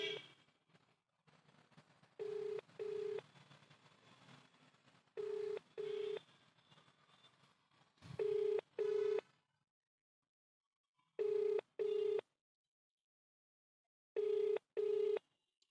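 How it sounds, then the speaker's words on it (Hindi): A phone call to a police station rings out: paired ringback beeps repeat at steady intervals, quiet and thin, over faint room noise in the first few seconds, then alone in near silence. "देखिए इस पे रिंग हो रहा है"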